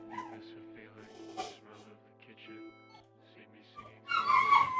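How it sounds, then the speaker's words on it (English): Pet dogs yelp, whimper and bark in a home during a windstorm, starting as brief sounds under background chatter and swelling into a loud, frantic outburst near the end. "The dogs are going insane."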